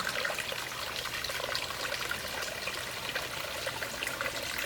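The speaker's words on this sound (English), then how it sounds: "they have a little area set up where you can just kind of sit down and relax by a little creek, stream type of a thing," Water trickling through a small creek-like water feature at a mini golf course, a steady, close babbling and splashing flow with no voices.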